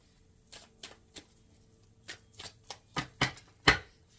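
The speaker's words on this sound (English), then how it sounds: "I'm going to shuffle in the Ace of Cups I just had." Short, crisp riffles of tarot cards being shuffled, about a dozen quick bursts in an uneven rhythm, close by with quiet pauses between.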